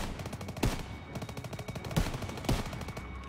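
Machine gun fire in Call of Duty WW2, a continuous rattle of rapid shots at mid distance, punctuated by several louder, heavier single reports.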